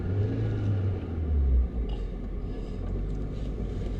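A Suzuki car engine revs and rumbles on a snowy road in Murree during snowfall, a loud low drone that swells and then settles into a steady idle-like rumble, with no talk.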